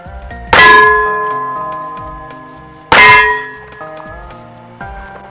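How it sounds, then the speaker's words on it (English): Two gunshots strike a hanging steel gong target on a DIY shooting range, each a sharp metallic clang that rings on with sustained tones, the second hit arriving about two seconds after the first. "I love the sound of that gong"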